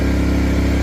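A portable generator engine runs steadily while breaking in, a loud, close, even drone with a strong low hum and no change in pace.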